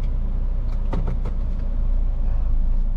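A Toyota Veloz Q CVT from 2023 cruising at easy speed, heard from inside the cabin as a steady low road and engine hum, with a few faint clicks and knocks passing over it.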